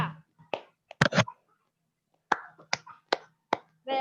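A class claps its hands in rhythm: a few sharp, close claps, a pause, then a steady run of single claps, with faint voices between.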